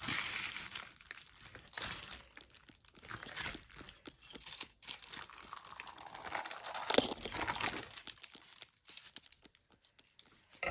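Painted tissue paper crumpled by hand for a butterfly craft, giving a steady crinkling, rustling texture with repeated soft crunches and bursts throughout, close and moderately loud, with no talking.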